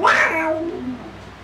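A person mimics a cat's meow with a voice, giving one drawn-out, loud, close-up mew that rises and then slides downward over about a second before trailing off.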